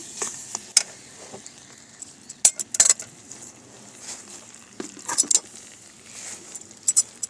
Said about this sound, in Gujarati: 1 વાટકો ગોળ છે અને ગોળને આપણે મિક્સ કરી લેવાનો છે।